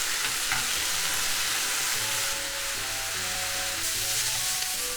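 Mushrooms sizzling and frying in a pan, a dense continuous crackle and hiss, close up, with faint clinks of utensils underneath.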